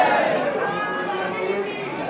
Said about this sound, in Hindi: बहुत भीड़ हो रही है।